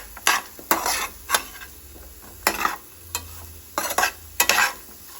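Crispy potato fry cooking in a pan, stirred with a utensil that scrapes and clinks in repeated bursts over a steady oily sizzle, close and fairly loud with no talking.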